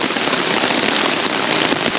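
Heavy rain pours steadily at a campsite, a dense, loud, continuous hiss of drops drumming on surfaces with no break and no voices.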